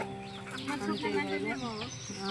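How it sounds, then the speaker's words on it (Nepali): Many chickens and chicks at a rural homestay cluck and peep together, a busy overlapping chorus of wavering high calls heard up close and continuing throughout. "यता चाहिँ देख्न सक्नुहुन्छ हाम्रो यति धेरै चल्लाहरू छन्"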